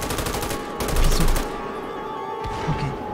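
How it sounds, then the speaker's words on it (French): Rapid automatic gunfire rattles in close, dense bursts during a GTA 5 LSPDFR firefight, then gives way to a lower, rumbling din with a few scattered later hits. "Qui c'est qui me tire dessus?"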